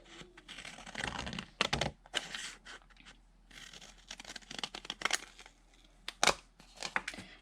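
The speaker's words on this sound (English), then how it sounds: "keeping it folded, we are going to cut the smaller leaves out" Scissors cut small leaf shapes out of folded paper, close and quiet: a series of irregular crisp snips and papery crinkles, separated by short pauses, with no talking.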